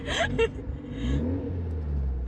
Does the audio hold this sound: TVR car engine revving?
yes